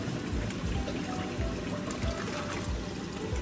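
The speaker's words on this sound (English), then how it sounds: "So I will run cold water, not on the pasta, but down the drain" Cold tap water runs down a kitchen sink drain, a continuous close splashing and gurgling stream that stays steady and fairly loud from start to finish, with no talk.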